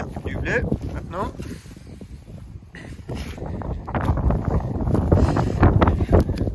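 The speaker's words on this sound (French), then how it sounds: "J'essaie de me protéger du vent, mais c'est pas évident." Strong wind gusts buffet the microphone in an open wheat field in winter, roaring in uneven bursts while someone speaks close by.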